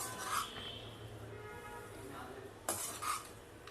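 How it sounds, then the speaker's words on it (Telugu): A spoon stirs puffed rice upma in a pan after salt is added, giving soft scraping and a couple of sharper clinks against the metal, quiet and close. "ఇప్పుడు మనకి టేస్ట్కి తగినంత సాల్ట్ వేసుకుని కలుపుకుంటున్నాను"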